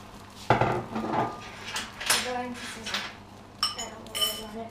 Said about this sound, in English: Take your spatula and just stir it around.